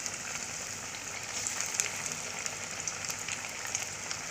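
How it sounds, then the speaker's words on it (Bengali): Egg-coated chicken pieces fry in hot oil in a preheated pan, making a steady close hiss dotted with faint crackles and pops throughout, with no talking. "সেটাতে আমি এখন ভেজে নেব"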